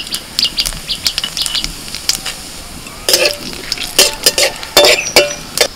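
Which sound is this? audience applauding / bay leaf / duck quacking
bay leaf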